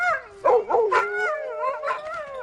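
A wolf-dog at a camp where riders prepare horses howls impatiently, wavering, whining howls rising and falling in pitch, fairly close and alone.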